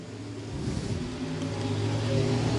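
Race cars roar around an oval track on the final lap of a race, with a loud, steady engine drone that holds throughout and has no pauses.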